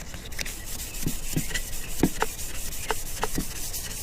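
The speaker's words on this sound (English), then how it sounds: "That's all you're going to do is just sand it, scuff up the surface, which gives the primer something to stick to." Hand sanding scuffs the surface of a strut tower brace, a steady soft rubbing with a few sharper scrapes between about one and three and a half seconds, close and moderately quiet, with no talking.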